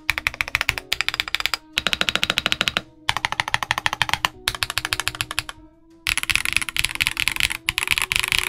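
A Kzzi K75Pro 75% mechanical keyboard with a polycarbonate plate being typed on, brisk close-up clacking in rapid bursts separated by short pauses, ending in a denser run of keystrokes.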